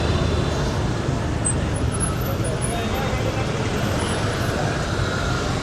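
Busy street traffic in Saigon with city buses and cars passing, a steady loud roadway roar throughout, with faint high squeals above and people talking nearby.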